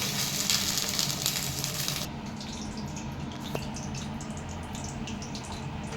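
A loud, steady hiss of water poured into a hot pan of potato curry, bright splashing at first, then settling into a softer continuous sizzle.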